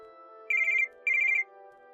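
A telephone ringtone for an incoming call: two short trilling electronic bursts with a brief gap between them, clear and moderately loud over a soft steady background tone.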